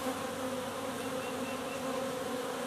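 Honeybees hum in a steady, faint drone around an open hive during an inspection, a continuous buzzing with no voices.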